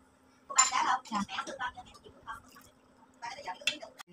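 A cooking pot is handled and set onto a stove in a home kitchen, giving a few close metallic clanks and clinks in short bursts against a quiet background.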